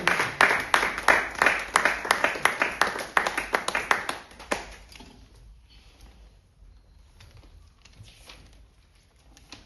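A church congregation claps in quick rhythmic bursts for about four seconds, loud and close. The applause then fades to a faint murmur with a few scattered claps.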